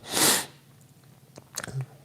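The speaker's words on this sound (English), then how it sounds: "I'm fighting a sneeze here, so bear with me." A single stifled sneeze bursts out close to the microphone, a short breathy snort, followed by quiet sniffing and a brief throaty sound.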